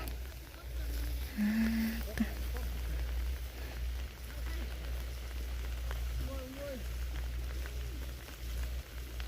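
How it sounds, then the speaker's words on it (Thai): Steady rain hisses across the whole stretch, with a low hum beneath and a few brief voices or animal calls breaking through. "ฝนยังลงแหงกว่าเก่า"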